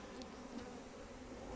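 A dense, steady buzzing of many bees close by at an open hive during acacia honey extraction, continuous and even with no pauses.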